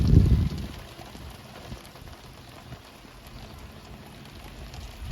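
Rain falls outdoors on a garden where okra seedlings are being planted, a steady, soft, even hiss after a brief louder rustle at the start.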